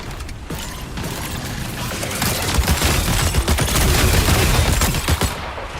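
Weapons unleashing a barrage during combat in the video game Marathon: a dense, continuous roar of rapid gunfire with mechanical rattling that grows louder and holds steady, with no talking.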